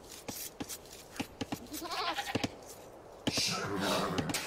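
Sheep bleat in Age of Empires II, with a wavering bleat under clicks and game sounds and a second bleat near the end. Both are fairly faint and mixed with other in-game noise.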